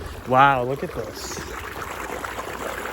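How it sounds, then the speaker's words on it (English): A fresh mountain stream flows with a steady, broadband watery rush beneath a trail hike, continuous throughout while a person speaks briefly at the start. "once again a very nice, beautiful, fresh stream."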